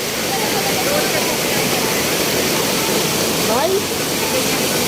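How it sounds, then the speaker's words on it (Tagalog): Strong river current at a campsite in Nueva Ecija roars as a loud, constant, close wash of rushing water. A brief voice is heard over it. "Ah, malakas yung agos."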